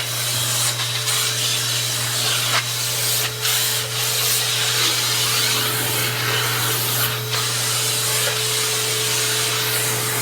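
Vacuum cleaner running nearby with a steady motor hum and rushing airflow, occasionally broken by brief scraping or sucking noises.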